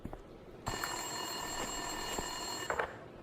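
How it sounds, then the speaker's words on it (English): An old-style telephone bell rings steadily in the video game Max Payne, a bright continuous metallic trill that starts abruptly and holds clear and fairly close against a faint hum. "Winterson's phone was ringing."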